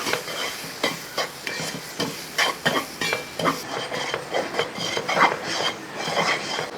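A thick mango laddu mixture is stirred in a pan at home, a spoon scraping the metal in a steady rhythm of repeated strokes, close and fairly loud, with no one speaking.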